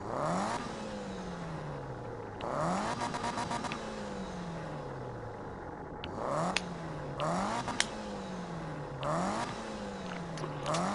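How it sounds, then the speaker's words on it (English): A turbocharged car in the Need for Speed 2015 video game revs up through repeated gear changes, and a sharp blow-off valve hiss bursts out at each shift, about four times over a steady engine drone. "the blow off valve with the turbo"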